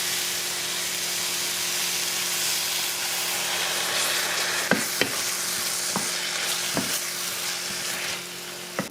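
Sweet-sour sauce mixed with soy sauce and broth tipped over stir-fried vegetables in a hot frying pan, giving a constant close sizzle and hiss with a few sharp utensil taps near the end, no voices.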